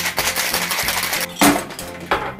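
Ice rattles inside a cocktail shaker as a cranberry martini is shaken hard, a dense steady clatter with a few louder jolts, close up and continuous throughout.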